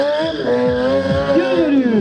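A motorcycle stunt rider whips the bike through a 90-degree turn on the front wheel. The engine wails loudly and steadily while the tire squeals in sweeping, rising and falling pitches.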